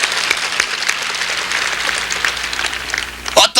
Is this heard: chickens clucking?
no